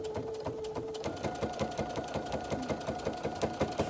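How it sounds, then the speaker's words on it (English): A sewing machine stitches in the ditch along black quilt sashing in a quilt-as-you-go project, a close, rapid rhythmic chatter of needle strokes that speeds up slightly after the first second and continues steadily. "we're going to stitch right in the ditch on this black side"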